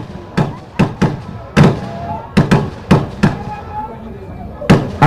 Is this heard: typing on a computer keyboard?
no